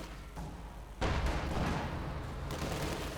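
Gunfire and shell impacts in a Company of Heroes 2 battle, with a burst of rattling shots and booms jumping louder after a quiet start, fairly faint overall.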